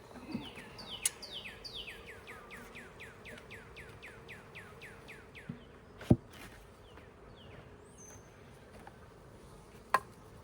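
Honey bees hum faintly around a hive outdoors while a bird repeats a quick series of descending chirps, with a couple of sharp knocks.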